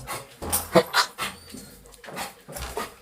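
A sick dog whimpers and whines in several short bursts, fairly close, with a person talking in between the cries.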